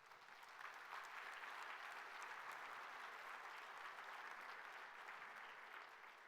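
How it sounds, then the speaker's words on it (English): Steady, dense applause from a large conference audience thanking sponsors, a continuous wash of many hands clapping at even loudness for several seconds, heard from within the room with no talking over it. "A huge round of applause for our sponsors in terms of making this meeting possible."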